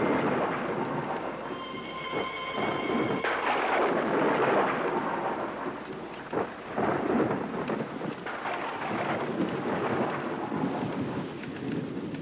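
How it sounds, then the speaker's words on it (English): Heavy thunderstorm over the Grand Canyon, with steady loud rain and rolling thunder crashing in repeated waves, one rumble piling onto the next, continuous and close throughout. "The storms pile up, almost one on top of the other, as if they were crashing together in great aerial collisions."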